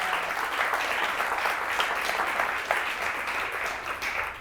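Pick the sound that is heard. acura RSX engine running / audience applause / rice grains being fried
audience applause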